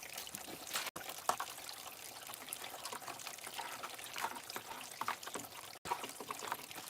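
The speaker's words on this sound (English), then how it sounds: "You're gonna take that out, you're gonna wash it into the pan." Water pours and trickles steadily as trommel material is washed into a gold pan outdoors, a continuous close splashing with two brief dropouts.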